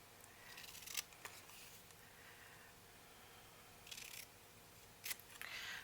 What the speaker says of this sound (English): My plan for the banners is just to cut